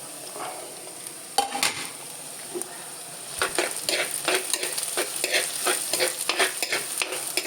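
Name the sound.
green chillies frying and being stirred in pan for fish curry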